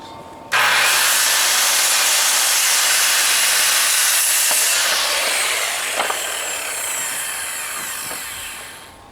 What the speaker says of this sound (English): So these 3-foot boards we're cutting here for the end pieces.